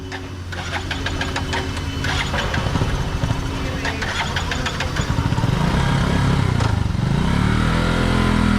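A motorcycle stuck in floodwater in Valenzuela sputters and knocks loudly up close, its engine stalling and failing to start, with voices talking over the noise.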